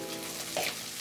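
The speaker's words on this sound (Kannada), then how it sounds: "ಈರುಳ್ಳಿ ಚೆನ್ನಾಗಿ ಫ್ರೈ ಆಗಲಿ." Onions frying in hot oil make a steady, fairly quiet sizzle, with a brief louder burst of crackle near the middle of a short moment.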